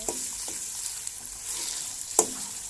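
Minced pork stir-fried in a hot pan for Thai basil pork, a steady sizzle with a few scraping stirs of the spatula, close and continuous, with no voices.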